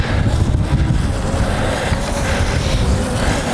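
Strong wind gusts buffet the microphone outdoors while a DJI Mini 3 Pro drone tracks an e-bike rider at speed, producing a loud, continuous roaring rumble with no talk.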